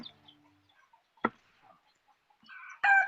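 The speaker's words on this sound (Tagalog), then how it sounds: "ito naman sa manukan daan tayo para nakikita natin yung mga manok" Chickens in a backyard coop give a few soft, scattered clucks, then a sharp short squawk and a louder burst of clucking near the end, with quiet gaps in between.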